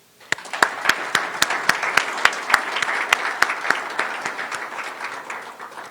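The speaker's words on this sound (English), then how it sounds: "Please help me give them a round of applause." An audience at a formal speech ceremony gives a round of applause, with distinct, fairly even claps from a modest group that keep going steadily for several seconds.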